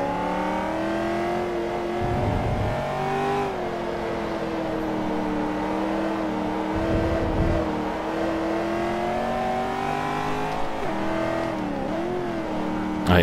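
Corvette engine in Forza Motorsport 3 launching hard off the start line, a loud sustained roar climbing through gears with sweeping pitch rises and brief dips at shifts, running continuously with no one talking.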